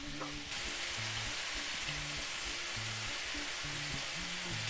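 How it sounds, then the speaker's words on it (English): Beef sears in a hot pan with onion, salt and pepper, giving a dense, even sizzle that holds steady throughout, with a low rhythmic hum or tone pattern running beneath it. "it's just to sear the meat"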